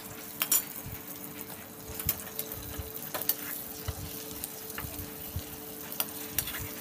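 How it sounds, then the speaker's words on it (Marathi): Bitter gourd with peanut powder sautéing in oil, a steady soft sizzle broken by repeated spatula stirs and light clicks against the pan. "तेलामध्ये चांगलं परतून घ्यायचे"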